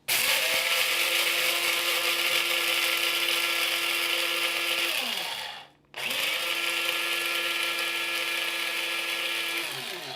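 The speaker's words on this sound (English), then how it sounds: "This is just an old coffee grinder." An old coffee grinder grinding spices for curry powder whirs loudly at high speed, cuts out briefly with a falling pitch, then starts up again and keeps grinding.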